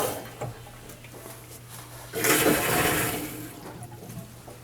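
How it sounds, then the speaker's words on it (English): Water rushes through freshly installed plumbing for a Noritz tankless water heater, a steady hiss swelling up partway through against a low background hum, with no talking. "I just turned on the water."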